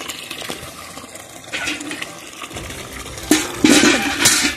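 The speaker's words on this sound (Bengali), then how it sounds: "বিশাল কাজ এই গাছে জল দেওয়া।" Water is poured over potted plants, making uneven splashing and gurgling that grows louder and fuller toward the end, close by with no speech.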